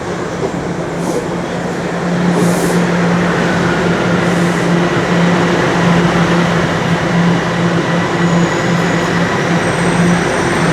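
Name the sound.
southbound Line 1 subway train arriving, Toronto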